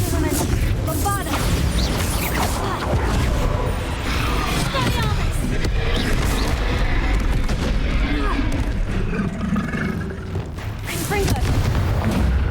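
Bombarda explosion spells in the video game Hogwarts Legacy, booming blasts mixed into a dense, continuous battle soundscape of rumbling impacts, crackling effects and crowd-like hubbub, loud throughout.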